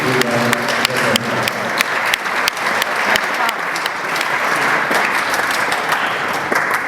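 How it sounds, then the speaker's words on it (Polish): Sustained applause from a crowd at a school meeting with Olympians, steady clapping that fills the whole stretch with a few sharper claps standing out. "wielkie brawa się należą dla pani"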